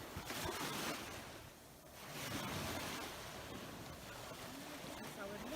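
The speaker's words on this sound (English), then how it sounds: "You guys can hear the sound of the waves." Ocean waves break on a beach beside a boardwalk and palm trees, a loud rolling surf wash that swells, eases off, then builds again, with wind buffeting the microphone.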